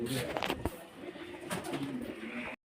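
Almond pigeons coo softly in a steady, low murmur amid background noise, close by, with no clear speech.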